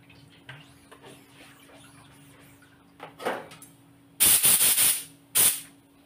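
Several loud bursts of hissing water spray, close by, rinse a printing screen in quick succession after a stretch of faint background noise.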